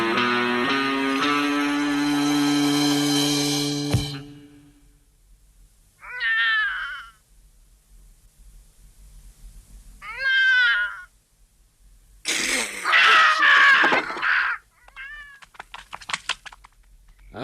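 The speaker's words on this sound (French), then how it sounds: "c'était le chat" A cat meows several times at intervals in a quiet indoor space. The calls are close and distinct, and one run is longer and more strained, all following a sustained tonal sound at the start.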